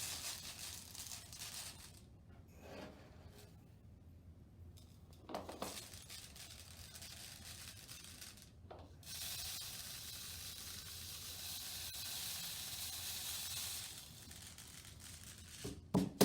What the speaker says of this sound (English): use the funnel and our scoop here to fill the bottle with rice